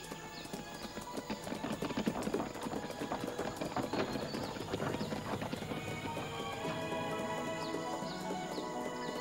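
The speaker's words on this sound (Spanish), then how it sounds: "Tengo un caballo magnífico." A horse's hooves clip-clop at a lively, steady pace on a road, with a brief whinny, the hoofbeats fairly close and continuous throughout.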